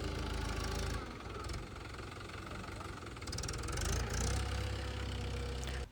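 A tractor engine runs with a low, throbbing knock, steady and close, its rumble swelling slightly as it works, pressing down chopped fodder in a silage pit.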